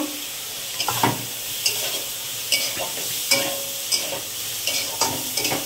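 Potatoes frying in a pan with fish-free oil already hot, stirred in repeated scraping strokes about once a second over a loud continuous sizzle, close and without talk.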